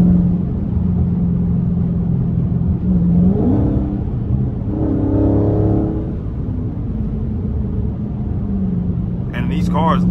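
A Dodge Charger Scat Pack on the highway in 30-degree cold, its engine holding a steady low rumble with a couple of rising rev swells midway, heard from inside the cabin with faint voices.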